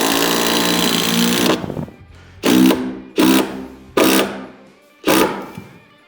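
A drill drives a structural screw through Advantech subfloor into a joist. One long sustained whir is followed by four short, loud bursts as the screw is snugged down, all close up and with no talking.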